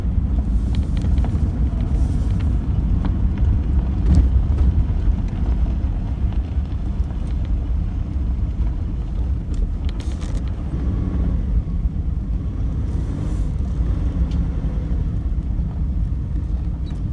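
A car creeps slowly down a steep forest road toward Warren River. A loud, steady low rumble of engine and tyres fills the cabin with occasional bumps and rattles, and no one speaks.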